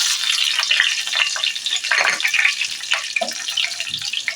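Whole cumin seeds and two bay leaves hit hot oil in a pan, giving a continuous crackling sizzle with small pops, close and fairly loud, with no voices.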